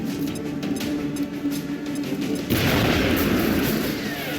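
A frag grenade goes off in a tactical shooter game, a sudden loud burst erupting midway with a broad rumbling blast that holds and lingers, following a stretch of quieter gameplay noise.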